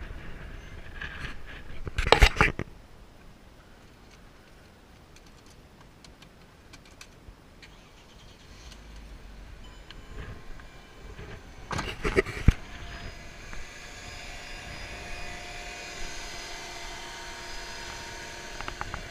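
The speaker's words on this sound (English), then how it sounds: "We'll try to hear what does the engine sound like." A 2003 Mercedes-Benz CLK320 engine idles smoothly and steadily at a low level, with a couple of brief louder clunks or bursts of noise over the hum.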